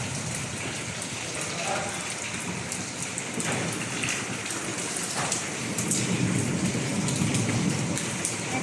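Rain falls steadily and densely, a loud continuous hiss of drops on surfaces that grows slightly heavier toward the end.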